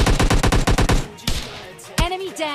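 Rapid automatic gunfire rattles in a tight burst of about ten shots during PUBG Lite gameplay, followed by a couple of separate sharp shots, with brief voice sounds in between.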